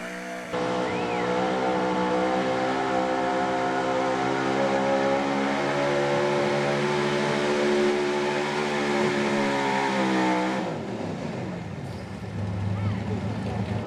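A 1976 Ford pulling truck roars down the track at a truck and tractor pull, a loud, sustained, high-revving engine scream that holds for about ten seconds and then cuts off, with an announcer talking over it.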